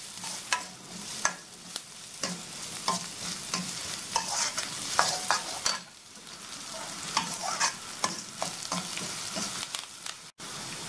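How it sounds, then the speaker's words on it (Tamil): Onions and curry leaves frying in a pan for egg gravy, a steady close sizzle broken by frequent scraping stirs of the spoon, with no talk. "வந்து வெங்காயத்தையும் கருவேப்பிலையும் போட்டு நல்லா ஃப்ரை பண்ணிடுங்க"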